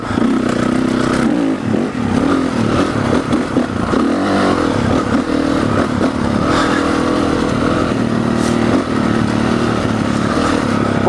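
Honda CRF 450 motorcycle engine revving loud and close, a steady rough roar with repeated throttle blips and surges throughout, no talking.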